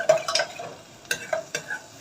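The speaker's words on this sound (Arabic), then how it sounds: "حطيت حبة زيت وحطيت عليها سنة توم بسيطة" A little garlic fries in a splash of oil for a homemade pizza sauce, a soft hiss broken by several distinct scraping strokes of a utensil stirring the pan.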